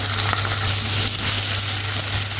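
Onions sizzle and fry in a pan for a curry, a loud, steady crackling hiss that carries through without pause or voices.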